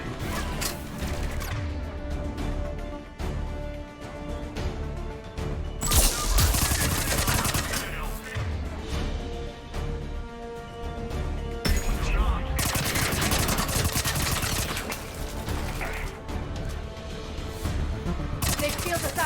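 Gunfire in the video game Mass Effect: rapid bursts of automatic weapon shots and crashing impacts, loud and close, recurring in clusters, with occasional talk in between.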